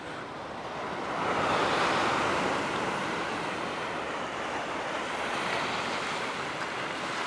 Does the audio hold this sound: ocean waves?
yes